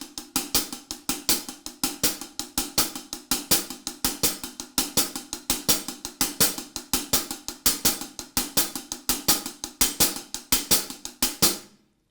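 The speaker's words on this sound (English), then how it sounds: "One thing first of all is the hi-hat pattern." A salsa hi-hat pattern in steady eighth notes with a few accented strokes, crisp, close, even ticks repeating alone for about twelve seconds before stopping.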